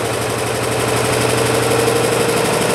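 A test engine in a thermal engineering lab runs at roughly 1440 RPM, a loud, steady mechanical drone with a fine rhythmic knock and vibration, heard close up and on its own.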